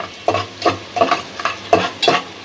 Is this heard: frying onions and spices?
yes